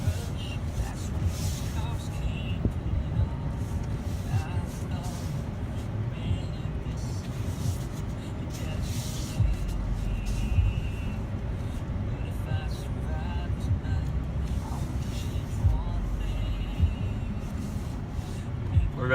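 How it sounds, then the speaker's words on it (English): A truck drives along with a steady low road rumble and engine drone heard from inside the cab, continuous for about twenty seconds, while people talk over it. "we're going to drive a little in my maybe future truck."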